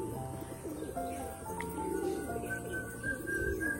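Pigeons kept and released on a rooftop coo softly in overlapping, rhythmic calls, fairly faint and close by, with no voices.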